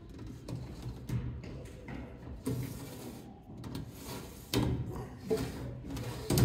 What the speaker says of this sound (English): you could open the drawers.